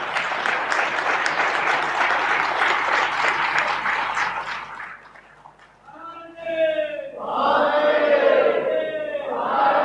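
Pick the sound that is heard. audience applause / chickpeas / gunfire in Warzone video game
audience applause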